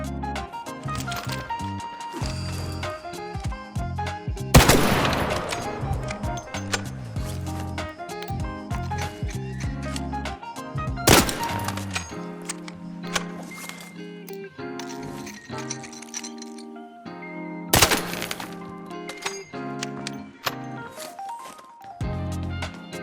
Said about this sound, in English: I also wanted to test how the weapon sounded with and without silencers